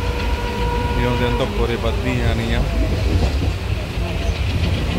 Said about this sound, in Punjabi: ਆਹ ਬਠਿੰਡਾ ਜੰਕਸ਼ਨ ਬਣਿਆ ਹੋਇਆ ਵਾ, ਉਹ ਟ੍ਰੇਨਾਂ ਫੜੀਆਂ ਨੇ